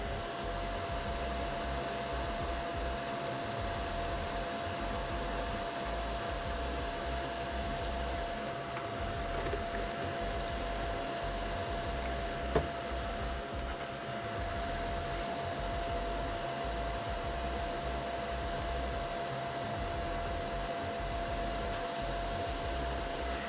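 Airbrush hissing steadily as it sprays a paint known for clogging the needle, used at a model train workbench; the airflow runs continuously and evenly with a low hum underneath and one brief click midway.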